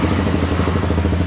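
A Honda CBR K45 motorcycle engine runs with a steady, close, even mechanical drone and a continuous low rumble, with no break in the sound.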